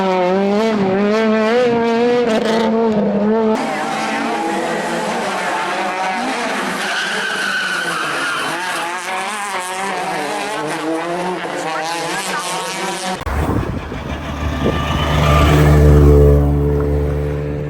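A Peugeot 106 Rallye race car laps an industrial estate circuit, its engine climbing and falling through the gears at high revs, then a sharp tire squeal and skid with heavy rumbling near the end.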